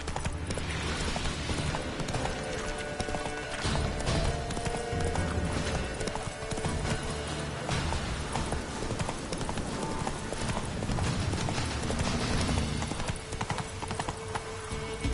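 Hooves of Roach, a horse in The Witcher 3, clip-clop steadily and continuously at close range over a busy bed of game music and ambience, with a brief whinny-like touch, for the whole stretch.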